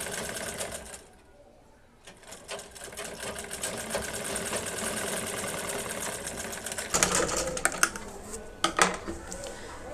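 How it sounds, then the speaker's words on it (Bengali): A sewing machine stitches a square patch onto salwar fabric, whirring in a steady close drone that pauses briefly near the start, then runs on with a few sharper clatters toward the end. "তারপরে এটাকে এভাবে করে সেলাই করে ফেলতে হবে।"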